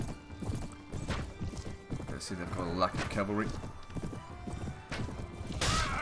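Horse hooves clip-clop in a steady run during a Mount & Blade Warband medieval battle, mixed with a whinny and game clatter while someone talks over it.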